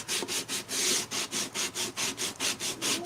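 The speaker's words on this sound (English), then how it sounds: "I'm just sanding off the extra paper" Sandpaper rubbed back and forth against the edge of excess paper in a craft project, making steady rhythmic scratchy strokes about four per second, close and clear with no talk.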